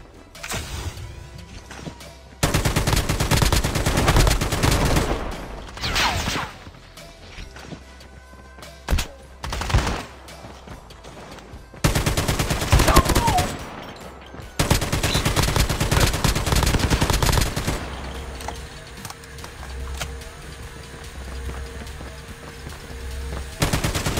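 Bursts of automatic AK-47 fire in a shooter video game, several loud rapid strings of shots separated by quieter gaps and footsteps, with a longer sustained burst late on.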